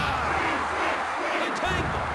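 Roaring wrestling arena crowd in the video game WWF War Zone, a dense continuous wash of cheering and shouting that holds steady throughout, with no break in the noise.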